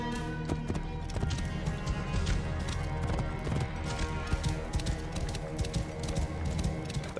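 Hooves clip-clop steadily on the ground as a horse moves in Assassin's Creed Origins, a continuous rhythmic clatter over a busy game soundscape.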